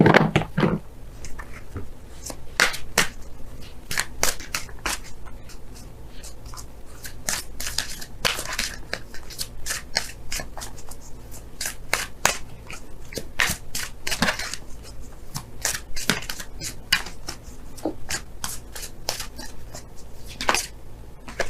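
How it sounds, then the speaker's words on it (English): Tarot cards drawn and shuffled from an oracle deck make a long run of crisp card slaps and flicks in irregular bursts, close and clear over faint background hum. "let's go ahead and pull your Romance Angels cards for this week"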